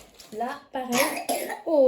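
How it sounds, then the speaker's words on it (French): A child gives a couple of short coughs close by, mixed with an adult's speech in a home setting. "Tu tousses mon cœur."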